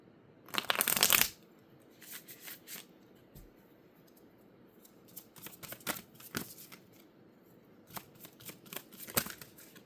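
A deck of playing cards is shuffled close by: a dense riffling burst at the start, then scattered quieter card flicks and snaps against a near-silent room.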